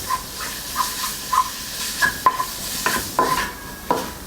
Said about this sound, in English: Separate the meat with the wok spatula to form many small pieces instead of lumps together.